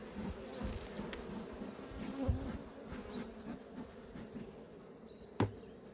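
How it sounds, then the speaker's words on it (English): Steady, dense buzzing of many agitated honeybees close by during a hive inspection, continuous, with a brief sharp knock near the end. "you could hear the difference in their buzzing tone. They're definitely agitated right now."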